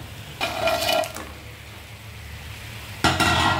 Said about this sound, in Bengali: তো আমি এখন এতে বড়িটা যে ভেজে রেখেছিলাম ওটা দিয়ে দিব।